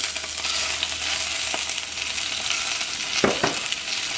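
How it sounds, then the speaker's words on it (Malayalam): Boneless chicken added to a pan of golden fried garlic sizzles steadily in hot oil, a loud continuous frying hiss with a couple of brief stirring scrapes near the end and no talking. "ഞാൻ അതിലേക്ക് 200 ഗ്രാം ബോൺലെസ് ചിക്കനാണ് ചേർക്കുന്നത്."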